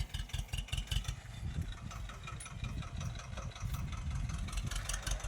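A Swaraj tractor engine runs steadily with a low, throbbing rumble and rhythmic knocking while sowing chickpeas with a Jackie 9218 seed drill, loud and close throughout with no talk.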